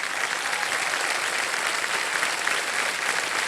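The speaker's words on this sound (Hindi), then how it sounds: "मैं चाहता हूं कि इनका जोरदार तालियों के साथ स्वागत किया जाए" A studio audience on a TV quiz show claps loudly and steadily to welcome a guest. The dense, even applause fills the room and carries on without a break.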